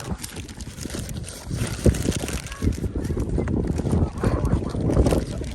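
Strong, gusty wind roars without a break across the microphone at a riverside fishing spot. The rough, buffeting noise stays close and loud from start to finish.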